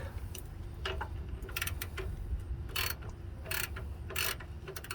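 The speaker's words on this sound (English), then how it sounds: "Grab your socket and start tightening them down slowly" A socket ratchet clicks in quick bursts while bolts are tightened on the upper control arm of a 2007–2014 Chevy Suburban or Tahoe, several close, loud runs of pawl clatter with short pauses and no talking.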